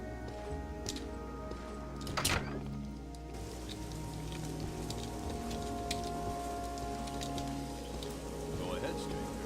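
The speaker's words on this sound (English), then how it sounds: "since it's still raining" Rain falling in a video game, a steady soft patter with scattered drips and one brief louder burst, a player speaking faintly over it.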